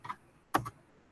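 Enter key pressed on a computer keyboard, two quiet, close plastic clicks in quick succession, no speech.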